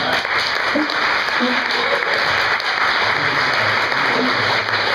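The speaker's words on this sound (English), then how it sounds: "So let's give Matt a big round of applause." An audience gives a sustained round of applause for a reader at a short-essay reading event, with dense, fairly loud clapping running steadily from start to finish.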